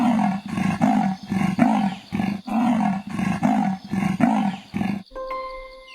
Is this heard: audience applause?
no